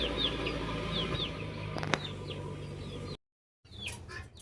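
Chickens with young chicks give soft clucks and high chirps close by, a continuous faint chatter briefly cut by a moment of silence before the peeping resumes.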